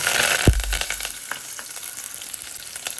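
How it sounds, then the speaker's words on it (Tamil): Onions and curry leaves hit hot sesame oil already holding fenugreek, mustard seeds and chana dal, giving a sharp crackling burst that settles into a steady close sizzle for a curry base. No voices are heard. "நல்லா வெங்காயம் வதங்கட்டும்"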